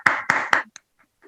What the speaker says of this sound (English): Can we once again clap?